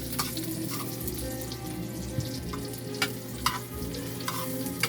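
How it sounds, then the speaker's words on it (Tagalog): Onion, garlic and chili frying in a pan for adobong kangkong, a steady close sizzle with occasional scraping stirs and light clinks, and no talking. "medyo paluto-lutuin muna natin ng konti yung sibuyas at saka bawang"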